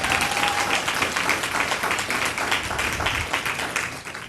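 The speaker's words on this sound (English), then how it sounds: "Can we give her a round of applause for that?" Applause from the audience at a community resource fair and symposium for an honoree named a White House champion of change, a sustained crowd clapping at moderate loudness throughout.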